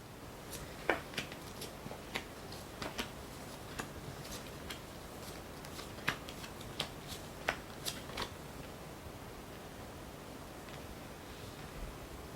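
Tarot cards are turned over one after another on a table, making soft, quiet flicks and taps in an irregular rhythm with a faint hiss behind them.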